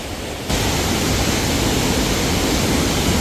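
A mountain valley stream in Seoraksan rushes over rocks in a dense, steady hiss of flowing water that starts abruptly and stays loud and even throughout, no voices.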